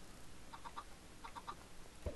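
A chicken in the Minecraft video game clucks in two short groups of three quick clucks, faint and fairly close over a low steady background.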